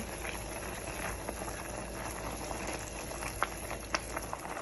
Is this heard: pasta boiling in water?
yes